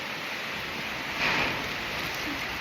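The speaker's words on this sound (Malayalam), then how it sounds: "അത്യാവശ്യം നല്ല മഴ ഇപ്പോഴും പെയ്യുന്നുണ്ട്." Heavy rain driven by strong wind makes a continuous broadband wash with a brief gust-like swell near the middle, steady and enveloping with no talk.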